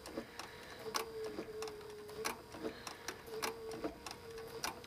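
A sewing machine stitches a leather inlay into a saddle seat in quick, regular clicking bursts, with a mechanical whine between stitches, close and fairly quiet with no voices.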